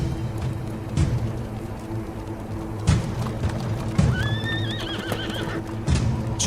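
Horses arrive in a historical drama scene, with loud close neighs and whinnies rising over a steady clip-clop of hooves and scattered thuds.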